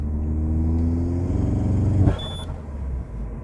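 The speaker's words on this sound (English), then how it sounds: "let's pick a second gear. Floor it." A Peugeot 207 GTI revs hard under full throttle in second gear, a loud near engine rumble climbing in pitch for about two seconds before cutting off sharply, followed by a brief electronic beep and a quieter idle.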